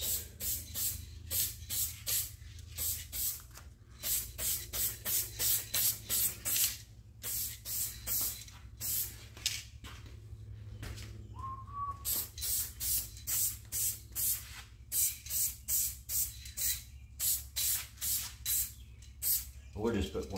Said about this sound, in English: I'm going to put some adhesion promoter on there